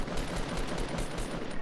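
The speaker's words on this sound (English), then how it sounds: "Oh, with that pump action shotgun, holy shit." A pump-action shotgun fires in a Fortnite Battle Royale squads match: dense, rapid gunfire bursts in quick succession, loud and close, with game noise throughout.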